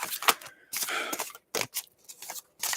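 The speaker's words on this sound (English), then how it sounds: "Y'all see how much I'm shuffling?" Tarot cards are shuffled by hand in quick bursts, crisp papery riffles and slaps separated by short pauses, close and fairly quiet with no talking.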